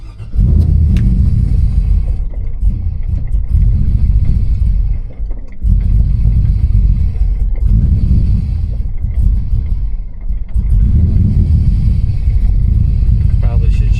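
A 1992 Chevy C1500 pickup with a swapped LS1 V8 and T56 manual, driven on a test run: a loud, steady low engine drone and road rumble that dips briefly twice, with no talk.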